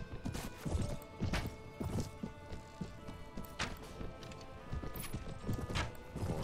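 Horse hooves gallop in Mount & Blade Warband, a fast, steady clip-clop rhythm up close, joined by a whinny and occasional clashing sounds.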